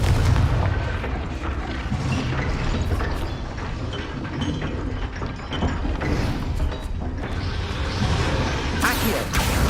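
Confringo spell blasts in the game Hogwarts Legacy go off amid dense combat noise: booming impacts, mechanical clatter and rattling effects at a loud, continuous level, with voices mixed in.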